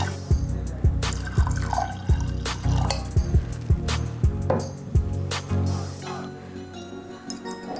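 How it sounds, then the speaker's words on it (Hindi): Water poured into a pot of lentils for dal on the stove, with splashy liquid trickles and repeated low glugging knocks, fairly close and steady, without any talking. "पानी डालें,"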